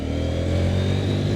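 A 2025 Husqvarna Vitpilen 801 motorcycle pulls hard in second gear in sport mode, its engine droning steadily and loudly with a sustained, even exhaust note and rushing wind, heard without any talking.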